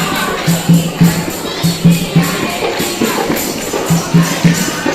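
Crowd noise fills a temple bhandara community feast at Bala Sundari Mata temple: a continuous babble of many voices with a regular low thumping beat repeating throughout, close and moderately loud.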